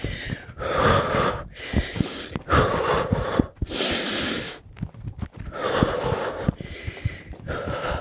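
Heavy, rhythmic panting from someone in a skipping rope HIIT workout, loud and close, with quick breaths in and out separated by brief pauses.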